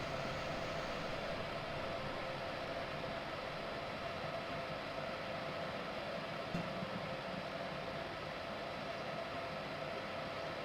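A BR189 electric locomotive in Train Simulator 2015 rolls slowly through a siding at Lüneburg, giving a steady, faint rail hum and hiss with no voices over it.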